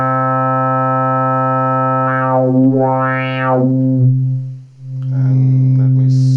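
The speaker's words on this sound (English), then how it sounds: "I can add distortion in the filter." A buzzy, harmonically rich Hordijk modular synth oscillator tone holds steady, then a resonant filter sweeps up and down in wavy arcs, briefly cutting out before returning with filter distortion.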